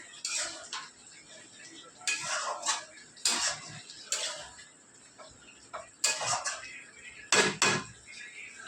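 Spice masala for chicken is stirred and sautéed in a pan, with repeated metallic scrapes and clanks of a spatula against the pan in an irregular rhythm over a quiet sizzle.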